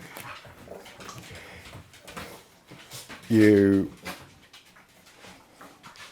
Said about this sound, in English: The dogs are back out again.